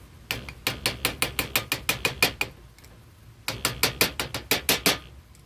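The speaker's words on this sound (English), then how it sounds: "Take a little screwdriver here." Rapid clicking ratchet-like strokes from a small screwdriver tightening fittings on an air suspension valve manifold, two bursts of about ten sharp close clicks each separated by a short pause.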